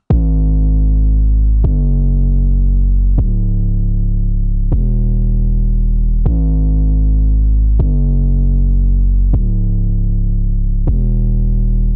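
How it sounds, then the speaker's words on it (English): Distorted 808-style bass in a beat, eight heavy, evenly spaced booming notes with sharp attacks and long sustained, gritty tails, loud and alone. "This is how my version of the bass sounds."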